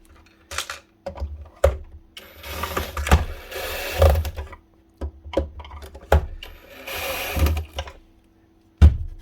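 Small screws driven into the housing of a Makita MR002G site radio during repair, heard as short bursts of a whirring driver with clicks and handling knocks between runs, close up.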